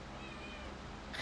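Cats meow faintly over a low background hum, with a thin drawn-out call and a brief louder cry at the very end.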